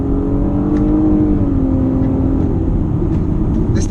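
A 2018 Nissan Maxima Platinum with a 300-horsepower engine accelerating hard, a steady loud engine drone with rising tone heard from inside the cabin, no talking.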